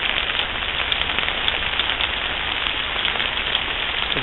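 Rainwater pours over a clogged gutter, a steady loud hissing splash without pause, with faint drips ticking through the wash.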